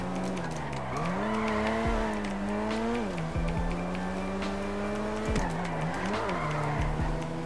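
A Mazda RX-7 VeilSide drifts in GTA V, its engine revving steadily with repeated pitch dips at gear shifts while tires squeal through long sustained slides.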